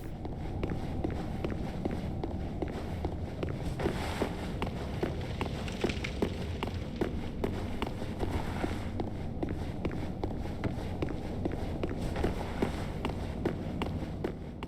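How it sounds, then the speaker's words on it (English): Armored character footsteps in Dark Souls III, walking forward while switching between one-handing and two-handing weapons, a steady fast stream of close, crunchy steps continuing without pause under a low game ambience. "seems to play the normal light footstep sounds when I don't think it's supposed to"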